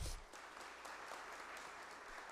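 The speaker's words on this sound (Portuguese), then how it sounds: "Aplausos." Attendees at a solemn legislative session honouring people with rare diseases applaud an honoree, a continuous even patter of many hands, fairly distant and quiet, lasting the whole moment without speech.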